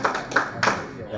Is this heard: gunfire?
no